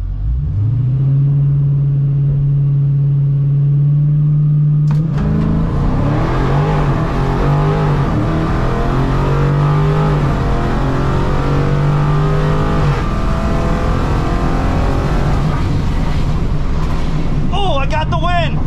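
Modern street HEMI car at Rockingham Dragway in a bracket drag race: a loud steady engine drone idling, then a roaring launch and full-throttle run that stays loud and close throughout.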